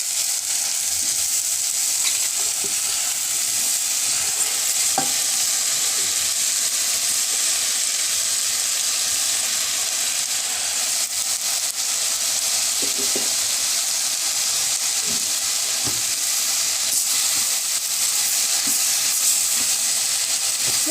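Chopped cabbage fries in a pan for a creamy coconut-milk sodhi, hissing and sizzling continuously and loudly, with occasional soft scrapes as it is stirred.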